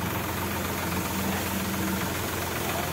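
Tractor-operated sprayer engine running steadily, a dense even mechanical drone with a low throb, close and continuous with no talk.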